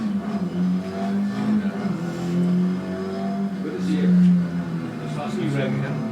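A race car being driven at Anglesey circuit drones and revs steadily for several seconds, its engine noise partly under a voice talking.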